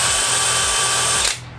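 An SDS hammer drill set to drill mode runs with a steady, high motor whine for over a second, then winds down and stops.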